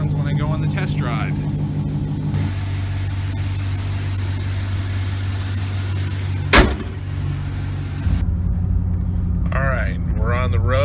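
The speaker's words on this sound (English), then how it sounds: "It's definitely sounding a lot throatier, or more throaty" Engine of a 2006 Chevrolet Silverado with a Volant cold air intake, a steady deep rumble that shifts pitch partway through, with a sharp click and someone speaking over it at the start and end.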